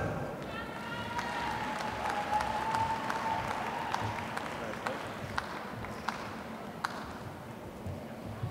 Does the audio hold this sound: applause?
yes